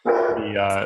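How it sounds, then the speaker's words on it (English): A dog barks in the background during a spoken interview, a single drawn-out bark or whining yelp lasting under a second, fairly close and loud. "Sorry for the barking dog in the background there."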